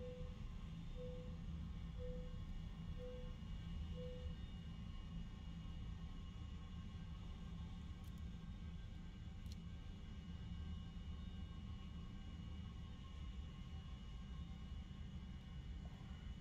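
A Buccaneer S.2 jet flying in the War Thunder simulator, giving a steady, fairly quiet engine drone with a low rumble and a few short warning beeps near the start, with no talking.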